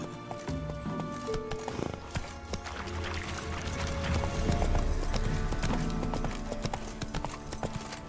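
Horse hooves gallop in a steady clip-clop rhythm in the open-world fantasy game Witcher 3, with occasional whinnies, game music and ambient sound underneath, and a voice speaking briefly.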